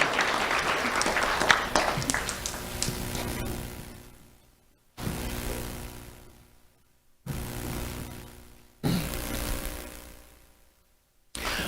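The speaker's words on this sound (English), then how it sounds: "Let's have a round of applause for Marvel Majesty" Audience applause at a sheriff's office youth awards ceremony for an elementary school student, an opening burst of clapping that fades, followed by several shorter rounds that start abruptly and then die away.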